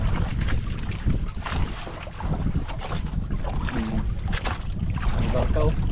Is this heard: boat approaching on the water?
yes